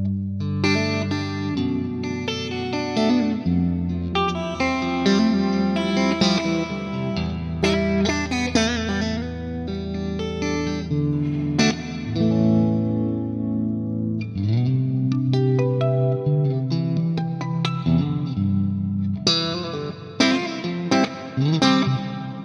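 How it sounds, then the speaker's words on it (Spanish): Electric guitar playing a piece through the Epic Verb reverb plugin with an almost five-second decay, sustained distorted notes and chords washing into long, lush tails. "el plugin de reverb que uso siempre, el Epic Verb, que es gratuito, con el preset de siempre"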